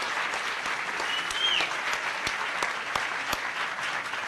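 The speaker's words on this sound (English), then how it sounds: "I think Lindsay deserves more applause than that." Steady applause fills a conference closing ceremony, a dense patter of many hands with a few sharper claps standing out, held at an even level throughout.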